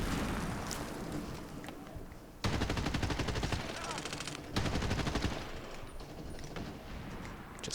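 Sustained gunfire in the shooter game Medal of Honor: Warfighter, with two long, dense bursts of rapid automatic fire standing out over a continuous backdrop of battle noise and scattered shots.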